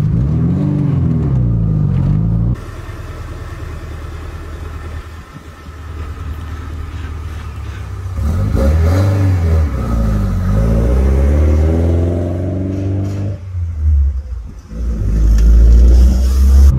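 A Honda Civic with a built block and no tune runs and revs on its first drive, the engine rumbling loud and close with rising and falling revs throughout, no talking over it.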